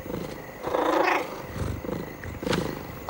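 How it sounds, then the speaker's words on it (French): A domestic cat purrs in a low, rumbling rhythm of repeated pulses close by, with a wild-cat tone to the growl and no talk over it. "Larry, mais tu ronronnes pour moi"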